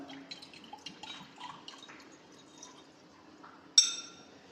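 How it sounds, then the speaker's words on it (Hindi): Water, 100 ml, is poured into a lab beaker for a water-and-oil density experiment: faint, close drips and trickles, then a sudden brighter splash of liquid near the end, with no talk. "पहले पानी के अंदर ये बीकर के अंदर डालते हैं पूरा 100 ml"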